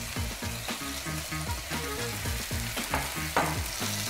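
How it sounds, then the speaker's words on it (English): Mushrooms sautéing in hot oil in a pan for a spicy mushroom rundown, with a continuous close sizzle and occasional stirring clatter under loud background music. "our oil is hot enough and we're gonna add our mushrooms"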